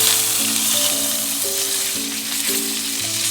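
A steak sears in hot oil in a pan, giving a loud, steady, close sizzle that runs unbroken under a soft melodic music track.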